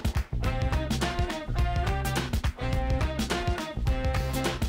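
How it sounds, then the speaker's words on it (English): A full, steady drum groove with a GarageBand drum machine beat and a live drummer layered together, alongside tonal backing, playing loudly and continuously without any voices. "here we have a stack of a GarageBand beat in the computer and then a live drummer playing over it"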